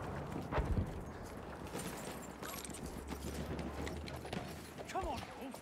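Hoofbeats of a horse clatter rapidly amid a noisy Battlefield 1 game soundscape with distant gunfire and voices talking over it.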